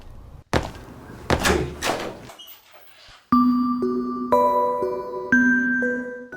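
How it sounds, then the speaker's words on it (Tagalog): A door is opened amid a few heavy thuds and knocks, followed by chiming tones that ring out in a stepped sequence, loud and close with no talk. "Buksan natin ang pinto, sabay-sabay."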